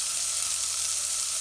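Finely chopped garlic and onions sizzle steadily in melted butter in a pan, a close, even hiss that holds without pause and with no voices over it.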